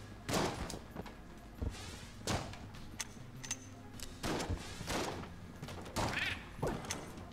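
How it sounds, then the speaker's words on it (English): Musket fire in the Enter the Gungeon video game, a run of sharp, fairly faint blasts going off quickly one after another, mixed with crashes and thumps. "that shoots a lot faster than a normal musket"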